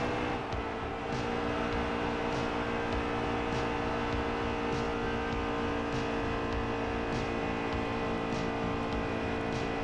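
NASCAR stock car engine in NASCAR Heat 3 held at full throttle, a loud, steady high-pitched roar with constant harmonic drone throughout and small periodic fluctuations as it laps, no voices over it.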